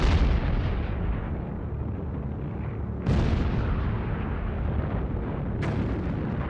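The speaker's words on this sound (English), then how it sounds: "An old German battleship opened up its 11-inch guns on fortifications in the Polish harbour of Danzig" Heavy naval gunfire from an old German battleship's 11-inch guns shelling harbour fortifications at Danzig in 1939: two sharp booming blasts about three seconds apart, each rolling into a long rumbling decay over a dense, continuous roar.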